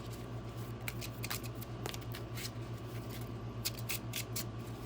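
Yu-Gi-Oh trading cards shuffled and riffled at a table, soft repeated papery flicks and snaps in short bursts over a low steady background hum.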